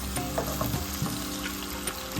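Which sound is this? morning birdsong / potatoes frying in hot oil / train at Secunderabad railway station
potatoes frying in hot oil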